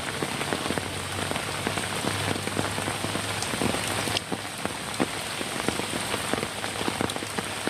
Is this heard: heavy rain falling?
yes